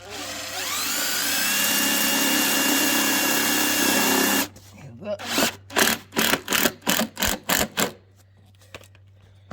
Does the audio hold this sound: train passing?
no